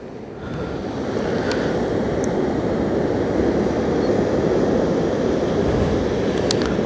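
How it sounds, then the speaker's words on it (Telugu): Sea waves surge and wash continuously onto Visakhapatnam beach, a steady loud roar of surf with some wind noise and no talking. "ఆ సముద్రం అలలు శబ్దాలు వినిపిస్తున్నాయా మీకు"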